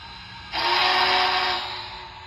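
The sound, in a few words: model steam locomotive sound decoder whistle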